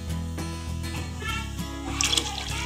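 Water poured into fried masala in a cooking pot for a beef kofta shorba, a steady close splashing pour running throughout with a brighter gush near the end.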